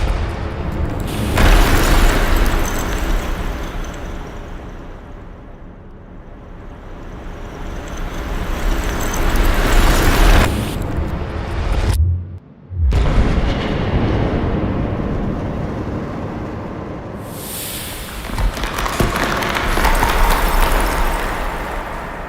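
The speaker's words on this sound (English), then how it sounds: "We fired another round through the monocore without containment so we could see exactly what was happening." A .308 rifle fires through an uncontained monocore suppressor during a developmental test, giving loud, broad rumbling blasts that swell and fade, with a sharp cutoff midway.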